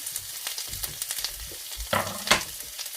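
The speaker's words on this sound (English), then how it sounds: "Got a little bit of vegetable oil in there. A couple tablespoons for each pan. And we're just going to let these turn translucent." Onions frying in a couple of tablespoons of vegetable oil in a hot skillet, a close, steady sizzle with scraping stirs and a few louder clatters toward the end.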